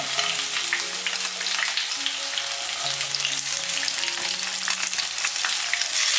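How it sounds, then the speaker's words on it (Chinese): Shrimp sizzling and frying in hot oil in a pan, a steady dense crackle with occasional spatters, close and continuous with no talking. "然后起锅热油，把我们的虾放进来煎"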